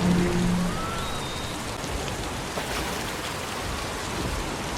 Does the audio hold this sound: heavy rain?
yes